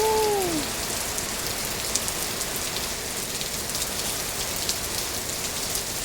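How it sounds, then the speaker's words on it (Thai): Steady afternoon rain pours down, a dense even hiss of drops striking surfaces close by, continuous and unbroken throughout. "น้ำสบายเลยค่ะคุณฝนขอบคุณนะคะ ตกมาให้ช่ำๆไปเลยจ้า"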